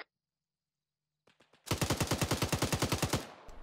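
A rapid automatic burst in ArmA 3, roughly fifteen loud, close shots in a steady rhythm lasting under two seconds, preceded by a few single clicks.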